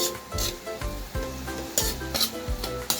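Sweet potato and carrot sautéing in a pan, a loud sizzle punctuated by repeated scraping strokes of a utensil against the pan, irregular and close, with no talk.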